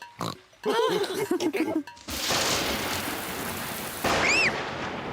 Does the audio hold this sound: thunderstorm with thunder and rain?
yes